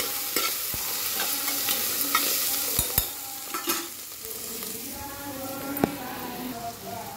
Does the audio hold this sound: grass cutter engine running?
no